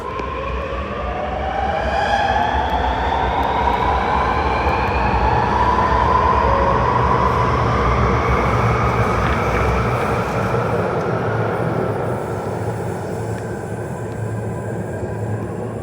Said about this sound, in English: the airflow going through the tunnel because the train's going really fast through it